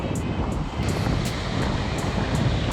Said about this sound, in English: there's some brutal wind here